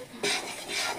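A ladle stirs flour in a pan, making two soft rasping scrapes close by with no other sound.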